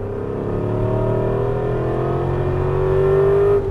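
Aston Martin V8 Vantage engine revving hard on a racetrack, a loud, steady onboard roar with a rising pitch as the car accelerates under full throttle, with no break or pause throughout.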